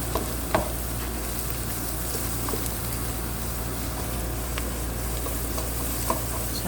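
Spice paste fries and is stirred in a pan, a continuous close sizzle broken by occasional scraping clicks of the spoon, no voices.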